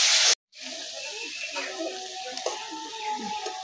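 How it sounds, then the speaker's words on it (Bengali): Taro stolons cooking with mustard paste, a sharp loud burst that cuts off suddenly, then steady sizzling and bubbling with faint tonal clinks. "সর্ষে বাটা এখন দিয়ে দিব, আর আমি কিছুক্ষণ রান্না করে নেব।"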